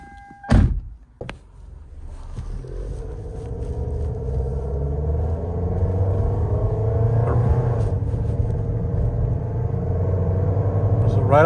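A 2007 Toyota Camry with a suspected transmission or low-power fault: a car door thunks shut near the start, then the engine hum and rumble builds as the car pulls away and cruises steadily.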